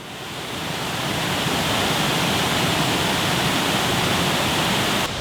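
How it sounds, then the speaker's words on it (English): A small canyon waterfall on Cranberry Creek at Nothstein Preserve in Paradise Township, hemmed in by rock walls, pours out a steady, close, broadband roar of rushing water that holds unbroken throughout with no voices. "So this was our goal, to reach this little canyon falls on the Cranberry Creek."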